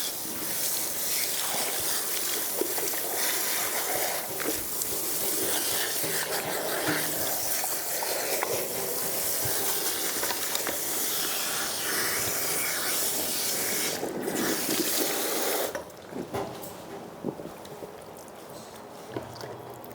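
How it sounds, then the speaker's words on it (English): Spray bottle misting detangler over a client's hair in a salon, a steady close hiss of repeated spritzes running for about fifteen seconds before easing off, with no talk. "spraying through mid-lengths and ends, a little bit over the roots, a nice even spray all the way through"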